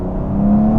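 BMW M4 CSL accelerating hard on an open road, a loud, close engine drone with a rising tone.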